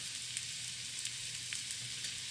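Light brown sugar melting in a pan for buffalo wing sauce, a steady soft sizzle with faint crackles, quiet and constant, no voices.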